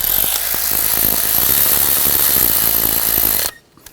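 Ratchet wrench tightening a screw on the high-pressure fuel pump of a 2013-2019 Ford Escape 2.0L four-cylinder, a loud, fast, close clicking that runs for about three and a half seconds, then stops abruptly.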